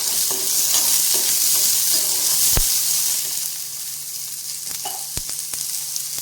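Small onions and green chillies sauté over a low flame, a continuous soft sizzle with scattered spoon clicks and scrapes against the pan that fade slightly toward the end.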